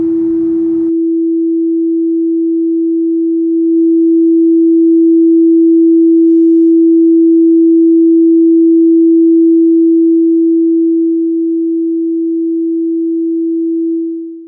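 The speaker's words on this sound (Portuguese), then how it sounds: "você pode ver uma alteração do volume agora, ou da intensidade do som, mantendo a mesma frequência." A pure sine tone holds one steady pitch throughout, swelling louder partway through and then easing back down before cutting off, preceded by a brief burst of noise at the start.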